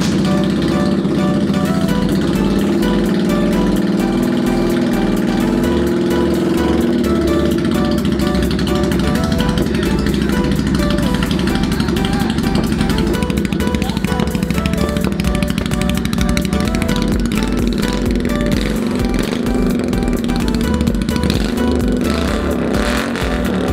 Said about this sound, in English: I'm gonna try to get a clip of the bike before I had the baffles on it so you could hear what it sounds like